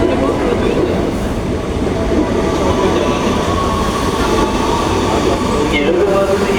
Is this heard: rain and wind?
no